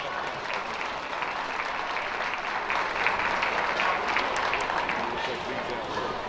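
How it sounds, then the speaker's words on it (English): Audience at a youth fair livestock show ring applauding steadily for several seconds, a dense, even wash of clapping from a crowd with voices mixed in. "Let's give all these a big round of applause as they exit the ring."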